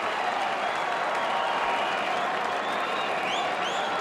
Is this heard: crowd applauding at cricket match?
yes